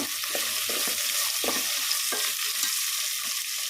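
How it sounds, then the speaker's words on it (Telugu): Carrots frying in a pan for aloo fry biryani, a constant loud sizzle with a spoon stirring through it in soft repeated scrapes. "క్యారెట్ వేసేసి ఇది కూడా బాగా కలుపుకోవాలి"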